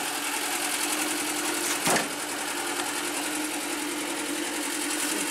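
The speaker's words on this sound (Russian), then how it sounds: "Мотор вроде работает" VAZ 2110 car engine running steadily, a fast even mechanical chatter with a constant hum, close and continuous, with one brief sharp click midway; no voices.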